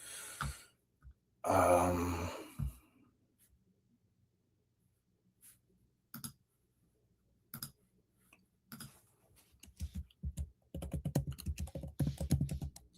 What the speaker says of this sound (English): So if you hear that clicking, that's me searching and pulling it up.